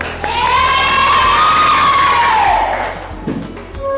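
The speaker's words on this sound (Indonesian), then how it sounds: "kita kasih tepuk tangan untuk semua kelompok." In a school classroom lesson, a crowd of students cheers and shouts loudly in a burst that swells quickly, holds for a couple of seconds, then fades away near the end.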